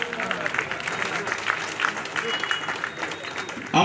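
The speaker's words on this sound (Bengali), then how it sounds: "তোমার জোরে হাততালি দিয়ে উৎসাহিত করবেন" An audience claps at a welcoming ceremony for members of a helping-hands group. Dense, steady applause from a crowd runs throughout at close range, with a sharper burst at the very end.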